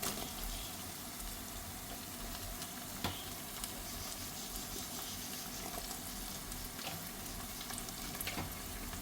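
Small tomatoes sizzle in hot oil with ginger and garlic while a chicken masala curry is cooked, a steady crackling fry with occasional sharper pops and faint stirring, and no talking over it.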